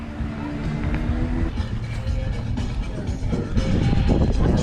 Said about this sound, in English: You heard that truck running.